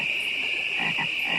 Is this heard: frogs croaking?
yes